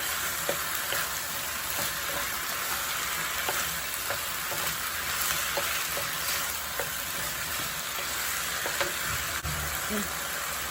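Mushrooms frying for Indonesian-style chicken noodles, a steady loud hiss of sizzling oil with regular scraping taps of a utensil stirring the pan, close up and without talk.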